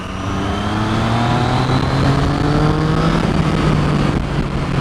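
A Triumph Street Triple 675R motorcycle accelerates hard, its engine note climbing steadily and loudly in pitch, heard up close from on board, with no talking.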